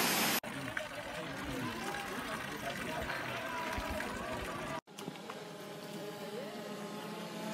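Waterfall flowing through a cracked former cave at a Bali elephant-cave temple, a constant broad rushing wash of water; the recording cuts briefly partway through, and faint voices may sit under the flow.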